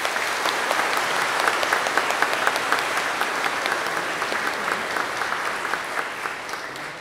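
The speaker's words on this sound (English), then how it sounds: "Can we give a round of applause for them?" Audience applause for teachers at a school graduation ceremony in a Catholic church, loud, dense, sustained clapping from a large crowd filling the room for several seconds.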